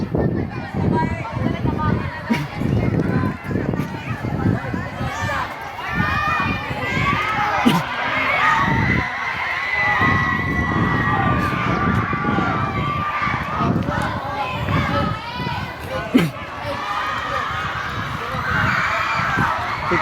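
Crowd of people, many of them children, shouting and yelling at an outdoor game on an oval. The noise is a dense, continuous din of overlapping voices throughout, with occasional louder yells and nearby talk mixed in.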